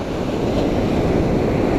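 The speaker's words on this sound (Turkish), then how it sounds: "Rüzgar tersten atıyor, mesafe yapamıyoruz" Steady headwind roars without a break on a fishing shore, a dense rushing noise that may include distant surf, with no voices.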